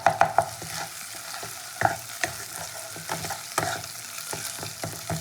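Dried red chilli and Kashmiri chilli paste fry in a pan with ginger-garlic paste while being stirred for a Bengali fish curry, giving a steady sizzle broken by scraping spoon knocks, close and alone.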